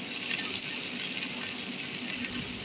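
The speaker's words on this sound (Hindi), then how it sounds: "इस स्टेज पर हम डालेंगे इसमें ऑयल।" Oil being poured into a pot of chargha boti (marinated chicken pieces) during cooking, a steady close liquid pour that runs unbroken and evenly loud, with no talking.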